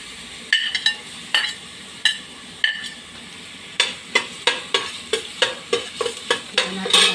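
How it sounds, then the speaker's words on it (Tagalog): Garlic sautéed in a pan while cooking Bicolano-style tortang giniling: a steady sizzle under repeated clinking strokes of a utensil against the pan, sparse at first, then a fast regular stirring rhythm. "Lagyan na natin yung bawang."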